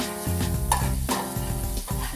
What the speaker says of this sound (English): And stir the garlic.